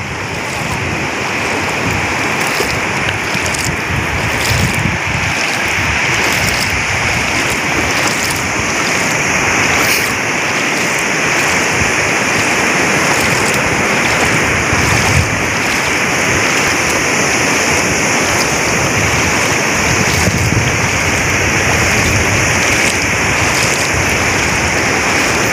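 Large sea waves break and wash continuously at the shore, a loud, steady surging roar with some swells rising in intensity, and no clear talk over it.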